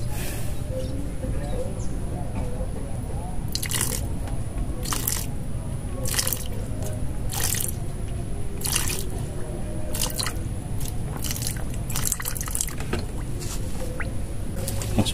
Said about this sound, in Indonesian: Kemudian kita tuangkan nitrit.